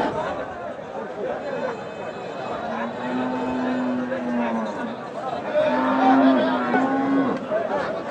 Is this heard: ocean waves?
no